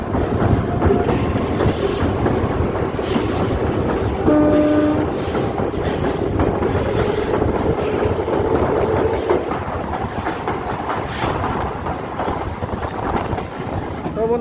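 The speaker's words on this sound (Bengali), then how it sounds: "বন্ধুরা ট্রেন আমাদের চলে এসছে প্রথম স্টপ" A MEMU train on the Katwa to Ahmedpur line rumbles steadily near the Ajay river with rhythmic wheel clatter, a horn sounding briefly around the middle over continuous carriage noise and rattling.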